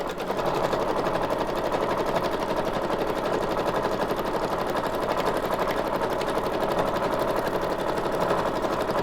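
A sewing machine runs steadily, stitching a blanket stitch along book-page paper for a junk journal belly band, its fast, even mechanical chatter close and continuous throughout with no talk.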